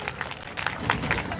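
Brief burst of audience clapping at a Swami Vivekananda Jayanti stage program, uneven and moderately loud, with a murmur of voices underneath.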